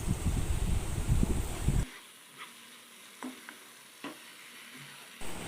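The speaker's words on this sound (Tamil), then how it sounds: "இதிலே இப்போ நம்ம குக் பண்ணி வச்சுருந்த பாஸ்தாவை சேர்த்து மிக்ஸ் பண்ணிடலாம்." Cooked vegetable pasta is stirred and tossed with onion, tomato and sauce in a pan, a loud sizzling scrape for the first two seconds, then quieter scattered clinks and taps.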